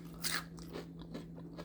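Crispy roasted broccoli with cheese is bitten and crunched up close, a few brittle crackling crunches over a low steady hum.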